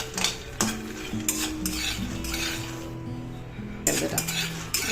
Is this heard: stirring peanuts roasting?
yes